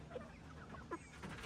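Free-range homestead chickens give a few short, quiet clucks against a faint outdoor background.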